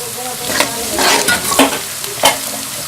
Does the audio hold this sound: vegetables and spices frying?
yes